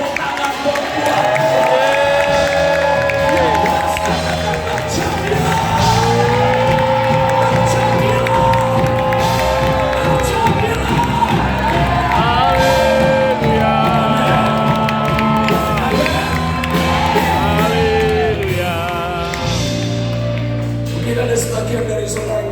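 Audience at a church seminar in Sukoharjo cheers and claps loudly and steadily, with shouts and whoops over a continuous crowd roar and tonal music-like lines running throughout.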